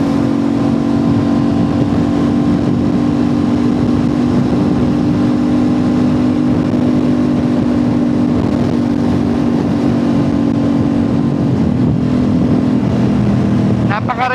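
An Aprilia RS660 with an aftermarket Zeev project exhaust drones steadily at speed, a loud continuous engine hum that holds a fairly even pitch, with a voice talking over it throughout.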